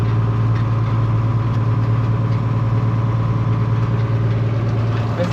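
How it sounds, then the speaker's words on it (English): A tractor pulling a plastic lifter through a potato harvest, its engine droning loud and steady with a constant mid-low rumble and no pauses. "I'm going through now with the plastic lifter and helping them out big time."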